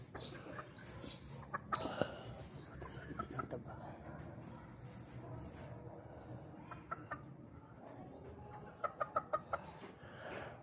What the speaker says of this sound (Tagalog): tapos na tayo magpatuka ng manok